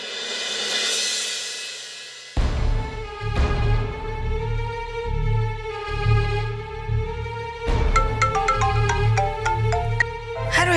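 A phone call rings out as a looping electronic ringtone with bright, stacked melodic tones over a steady low drone. It plays continuously and fairly loud, with no one speaking.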